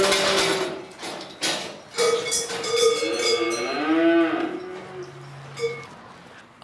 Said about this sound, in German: 25 Simmentaler Mutterkühe mit Nachwuchs gehen auf die Weide am Moossee.